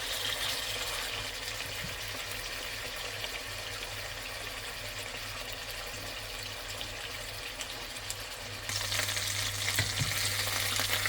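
Boneless lamb shanks searing in a pan, a steady broad hiss of fat sizzling that runs unbroken for about eleven seconds, getting a bit louder near the end, with no voices.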